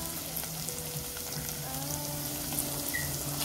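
Garlic and tomato paste fry in a pan with a steady, quiet sizzle and a few soft stirring sounds. No one speaks.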